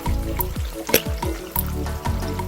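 Tomato paste dropped into hamburger meat frying in a pan, with close, steady sizzling and scattered crackles, plus a few scraping stir sounds and brief clinks.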